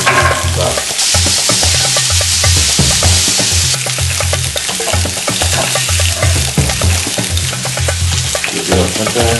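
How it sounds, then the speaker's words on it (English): Onions and meat frying in a hot pan for chicken and chips, a loud continuous sizzle with steady crackle and stirring throughout, no talking. "this other pan is nice and hot. We're going to toss in our onions and the same amount of meat"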